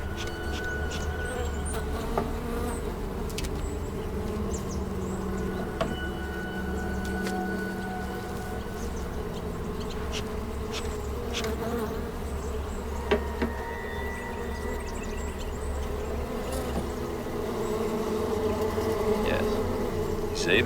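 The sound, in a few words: bees buzzing around an open beehive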